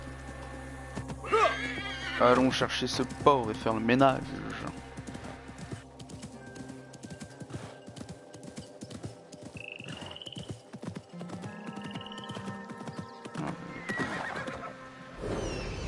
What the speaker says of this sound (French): Et voilà mon fidèle canasson.